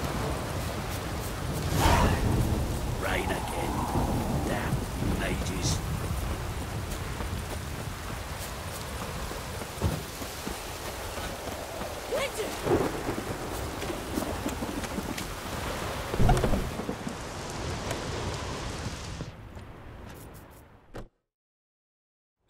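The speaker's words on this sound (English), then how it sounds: "Rain again." Steady rain falls in The Witcher 3, with several deep thunder rumbles rolling through at intervals and a wind-like wash beneath. The storm runs without talk until it cuts out abruptly near the end.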